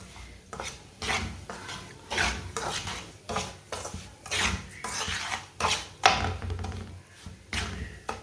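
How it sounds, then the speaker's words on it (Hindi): A metal spoon scrapes and knocks rhythmically against a pan, stirring semolina as it browns for egg suji halwa, each stroke a close, distinct rasp in an even repeating pattern. "इसे चम्मच चलाते हुए ब्राउन करना"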